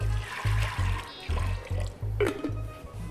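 Water is poured into a pressure cooker holding lentils on a kitchen stove: a close, uneven trickle and splash of filling liquid with gurgling pulses, and no one speaks.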